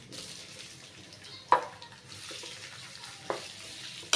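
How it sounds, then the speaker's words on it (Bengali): Garlic sizzles in hot oil, a soft steady frying hiss with a few sharp clacks of a utensil against the pan, fairly quiet and close. "এই যে এখানে তেলটা গরম হয়ে গেছে আমি এখন দিয়ে দিলাম হইলো রসুন"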